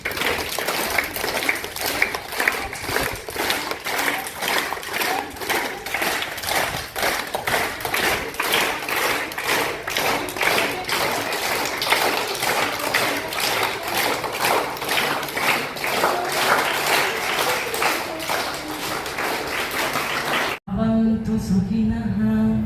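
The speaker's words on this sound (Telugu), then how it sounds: "ఇప్పుడు మనం క్లాప్స్ కొడదాం" A group claps hands in quick rhythmic bursts at a school International Yoga Day celebration, dense and steady for about twenty seconds before cutting off.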